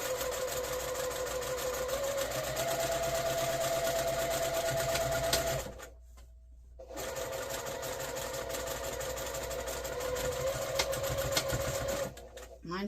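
A sewing machine stitches a half-inch seam on a fabric heat pack cover, running in a steady whir, pausing about a second near the middle, then resuming and stopping again near the end.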